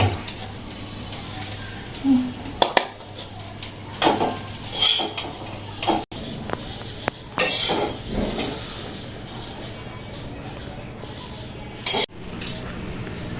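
Noodles cooking in a pan in a village kitchen, with metal utensils clinking and scraping against the pan in scattered knocks and taps, close and fairly loud, over a low steady hum.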